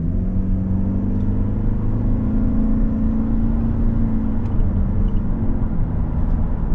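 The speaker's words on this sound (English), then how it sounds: "Now, step on the brakes, nice and straight, and now we'll take off." A 2025 Toyota Camry XLE AWD pulls away from a stop, its engine a steady low rumble with a rising whirring note as it gathers speed, heard from inside the cabin without talk.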